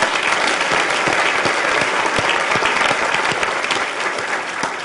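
Dense audience applause fills a forum lecture hall at the Forum Club of the Palm Beaches, a steady, loud wash of many clapping hands that holds evenly for about five seconds with no talking over it.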